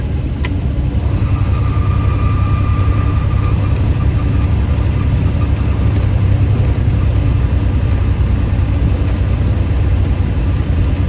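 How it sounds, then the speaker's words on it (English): A truck descends a hill with its Jake brake engaged, giving a loud, steady low engine roar that holds for the whole stretch without pause. "It'll get a little loud coming down this hill because my Jake brakes need to be loud."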